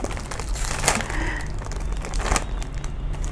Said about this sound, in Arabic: انت بتفتحي كيس